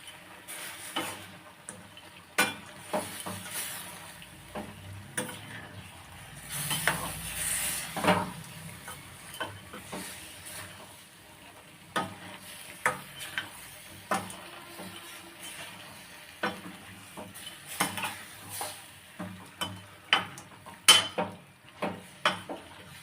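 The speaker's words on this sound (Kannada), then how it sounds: "ಹಾಕಿ ಇದನ್ನು ಮಿಕ್ಸ್ ಮಾಡ್ಕೋಬೇಕು ಚೆನ್ನಾಗಿ" Chicken gravy being stirred in a pan, with repeated scraping and clinking of a utensil against metal over a soft sizzle, sharp taps recurring irregularly throughout at close range with no talk.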